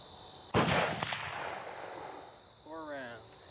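A handgun fired on a qualification range gives one loud, sharp shot with a rolling echo and a fainter follow-up crack, after which a voice is briefly heard.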